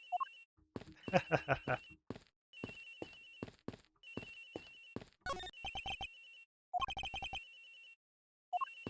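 A phone ringing in the Ace Attorney video game, a faint repeating electronic ringtone in short bursts, interleaved with game blips, text-scroll beeps and short chimes.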